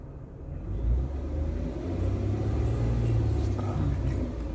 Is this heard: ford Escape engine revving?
yes